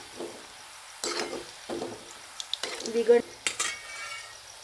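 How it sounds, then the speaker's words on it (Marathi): Pieces of bread frying on low gas for gulab jamun, with scattered clinks and scrapes of a utensil against the pan in short bursts and a faint sizzle between them. "आणखीन थोडंसं आपल्याला असंच फ्राय करून घ्यायचं आहे कमी गॅसवरती"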